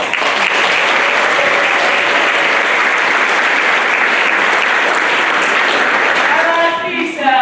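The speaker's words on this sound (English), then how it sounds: "Can you give her a round of applause?" Loud, dense applause from the audience at a spring school band concert, a continuous wash of clapping that begins to taper near the end as a voice starts speaking.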